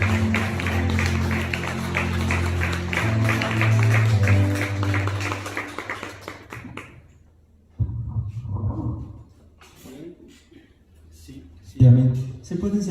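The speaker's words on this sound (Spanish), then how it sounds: "Dale una ofrenda de palmas a Cristo, aleluya." A church congregation claps together during a service, a sustained, dense wall of clapping for several seconds that then fades, followed by scattered quieter claps and brief murmurs.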